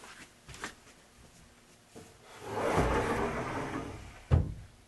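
A wooden pocket door on a cabinet in an MC9 bus conversion, sliding open and shut, with soft knocks, a rolling slide and a sharp bump at the end.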